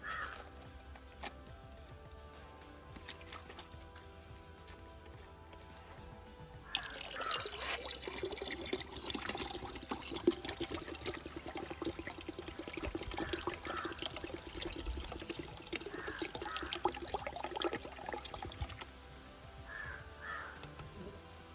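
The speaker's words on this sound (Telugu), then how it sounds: "పది లీటర్ వాటర్ తీసుకున్నామండి లీటర్ కోకో మ్యాక్స్ కలుపుతున్నాం" Liquid Coco Max fertilizer being mixed into ten litres of water for a coconut grove, a steady trickling, pouring wash that swells after a quiet start, with crows cawing now and then in the background.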